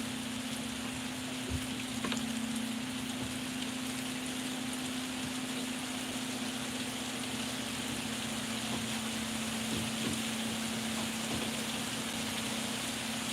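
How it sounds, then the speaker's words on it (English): Rain falls steadily in Hawaii, an even close hiss of drops on surfaces with a few louder individual taps and a low steady hum beneath. "it's raining right now here."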